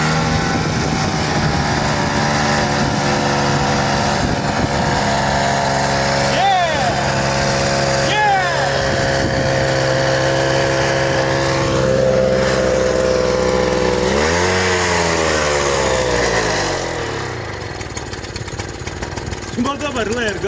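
A Gutbrod engine fitted with a Bing carburetor and a new intake runs on a test, droning loudly and steadily with rising and falling revs. It quiets toward the end, and voices talk over it in places.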